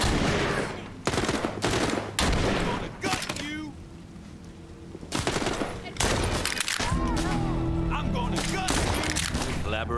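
Rapid bursts of gunfire from The Walking Dead: Saints & Sinners VR game, loud and close, with a quieter lull midway before heavy shooting resumes, while voices talk over the firing.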